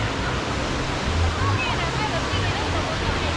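Crystal-clear Tioyacu river water in the Peruvian jungle rushes and flows at its source, a loud, steady broadband roar filling the scene close by, with no gaps.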